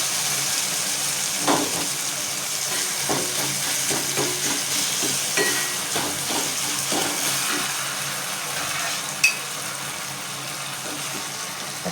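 Onion and tomato sauté in a pan for spring onion chutney, giving a steady close sizzle with scattered stirring scrapes and clinks throughout, with no talking.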